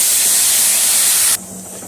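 Half a glass of water poured into a hot pan of drumstick masala hisses in a loud burst of steam that cuts off abruptly, leaving a quieter bubbling simmer with no voices.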